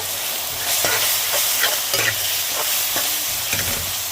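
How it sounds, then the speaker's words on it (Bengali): Chicken korma is stirred in a hot pan after chili and coriander powder go in, giving a continuous sizzle broken by repeated scraping strokes of a spoon about once every half second, close and fairly loud. "ধনিয়া গুঁড়া মরিচের গুঁড়া দিয়ে দিলাম দিয়ে আমি এটাকে একটু নাড়বো"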